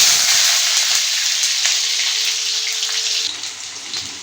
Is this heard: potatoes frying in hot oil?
yes